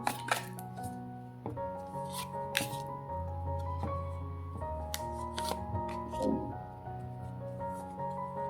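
Tarot cards shuffled by hand, with repeated riffling bursts and sharp slaps of the deck, close and crisp against a quiet room.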